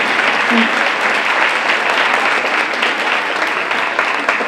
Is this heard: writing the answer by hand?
no